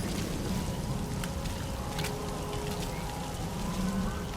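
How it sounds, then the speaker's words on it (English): Steady rainfall in Metal Gear Solid V makes a dense, constant hiss with a low rumbling bed and faint tonal hums behind it. "Sound of rainfall should help to mask your footsteps."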